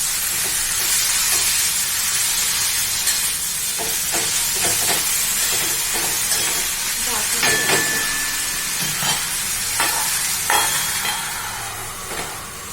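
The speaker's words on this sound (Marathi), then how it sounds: "भाजी हलवून घ्यायची अशा प्रकारे कारण नाही तर मिरची आणि लसूण परतून जाते" Chili and garlic frying in a pan while being stirred over low gas, a continuous loud hiss and sizzle with scattered scraping knocks from the stirring, close and steady.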